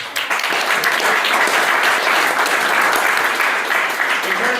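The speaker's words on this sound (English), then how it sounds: "A round of applause for Thomas." Audience applause for a civil attorney named Thomas at a panel discussion, a dense, steady wash of clapping filling the room for several seconds.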